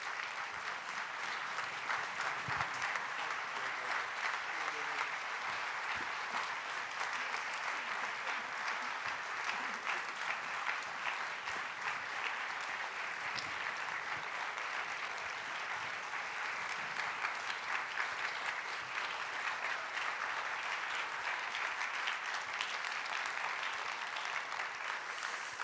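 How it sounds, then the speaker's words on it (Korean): A large church congregation gives young people a long round of encouraging applause, dense and steady clapping that keeps an even level for nearly half a minute, heard from within the hall. "우리 미래의 주인공이 될 우리 청년들을 위해서 다시 한번 뜨거운 격려 박수 보내주세요."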